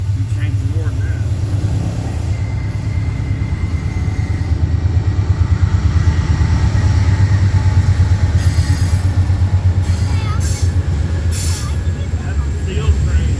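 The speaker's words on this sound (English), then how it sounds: "Steel train." A steel train rolls past, a loud continuous low rumble of wheels on rails with some higher squealing and hiss toward the end, with people talking faintly over it.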